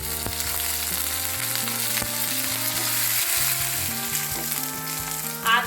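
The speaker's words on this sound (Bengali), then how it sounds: "আমার ক্যাপসিকামটা ভাজা ভাজা হয়ে গেছে" Grated ginger and chopped capsicum fry in a pan with five-spice seeds, a steady close sizzle with occasional stirring scrapes, no talk.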